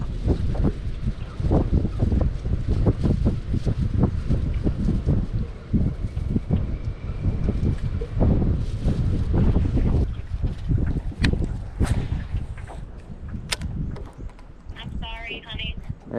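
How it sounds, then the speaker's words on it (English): Strong wind buffets a fishing boat, a loud, constant roar and microphone rumble with knocking and thumping running through it and brief higher squeaks near the end. "the wind just won't lay down at all"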